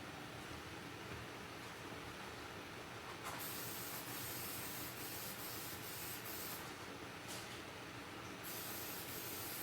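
Citral 266 cleaner is sprayed onto sections of car paint in a continuous hissing mist, with a couple of louder spray bursts standing out over steady background noise.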